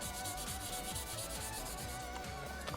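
A worn, scratched Lexus emblem is polished all over, giving a continuous, close, even rubbing and scrubbing sound with a steady rhythmic grind and no voices.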